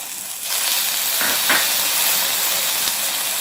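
Onion-tomato masala for Kolhapuri mutton sizzles in a pan, a loud, steady hiss that rises abruptly after a brief quiet start and carries on close and unbroken.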